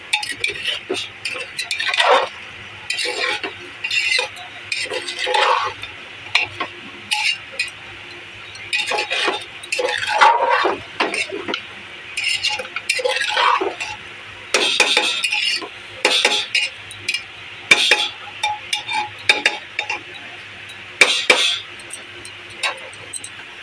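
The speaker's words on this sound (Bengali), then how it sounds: "দিয়ে ভালো করে নেড়ে দেবো।" Bangladeshi-style kacchi biryani ingredients being stirred in a pot, with repeated clattering metal scrapes and clinks from a spoon in bursts, loud and near over a faint background.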